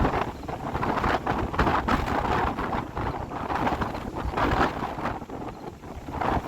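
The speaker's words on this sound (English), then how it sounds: "this wind is like crazy, crazy strong today." Strong wind blows hard at Plymouth Harbor near the Mayflower ship, driven by a distant hurricane, and buffets the microphone in a continuous loud, gusting roar with no talking.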